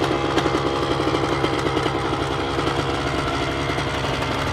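An old dirt bike engine runs steadily at a fast, rough idle, a continuous rattling mechanical drone with rapid pulsing, close and fairly loud, with no talk.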